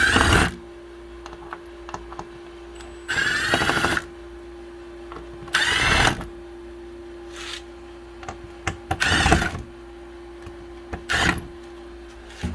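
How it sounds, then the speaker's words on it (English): Screws being removed from the control panel of an AquaPro pool heat pump with a power driver, several separate whirring bursts of a few seconds each and quieter handling between them, close up with no speech. "So the first thing we're going to do is take these 4 screws out."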